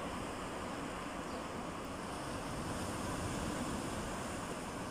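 Waves washing onto a very small beach with a natural pool, a steady, dense roar of surf and wind filling the whole stretch without pause.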